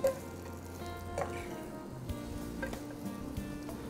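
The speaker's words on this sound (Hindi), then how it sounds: "I'm just gonna drop our onion and garlic in here" Chopped onion and garlic dropped into hot olive oil in a pan give off a soft, steady sizzle, with a few quiet clinks and scrapes from a utensil and nobody speaking.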